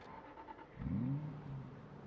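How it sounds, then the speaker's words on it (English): A car engine in the Project Zomboid survival game, in poor condition, cranks and revs up with a rising whine, then settles into a steady mid-pitched idle, heard clearly with no talk. "I know the engine is not the best."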